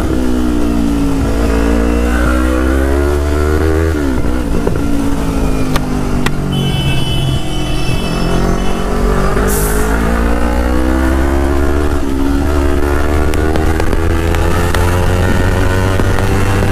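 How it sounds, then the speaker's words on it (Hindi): Yamaha R3 motorcycle engine, modified, started cold outside a building and revved hard, with loud repeated rises and falls in pitch over a steady idle, close up and alone. "बिल्डिंग के बाहर आके मुझे भाई गाड़ी को कोल्ड स्टार्ट करना पड़ता है"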